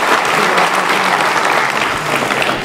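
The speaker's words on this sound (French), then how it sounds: "Ça mérite que vous l'applaudissiez" Dense, loud applause from an audience at a town mayor's New Year address, a continuous even roar of many hands clapping with no pause.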